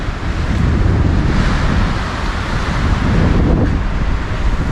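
Strong wind buffeting the summit of Old Rag Mountain in Virginia, a loud continuous rush and roar with heavy low rumbling gusts, no voices.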